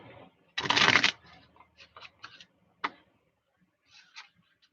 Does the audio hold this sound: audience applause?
no